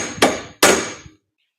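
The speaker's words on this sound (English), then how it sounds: "we need to hammer this guy back" Two sharp hammer strikes knock part of a Miata rollbar back into place, each a loud metallic crack with a short ringing decay, spaced about a third of a second apart, then quiet.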